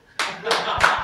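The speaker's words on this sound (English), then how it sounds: "they want to clap hands" A few hands clap in three distinct bursts at a church fire-hour prayer session, close and sharp, with speech underneath.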